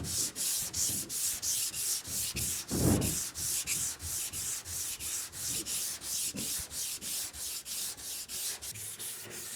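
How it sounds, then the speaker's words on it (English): Rhythmic back-and-forth scraping of 220-grit sandpaper on a Z28 Camaro's car body, steady strokes repeating quickly and close up, with no talking. "I'm just gonna sand this, and I'm sanding this with 220."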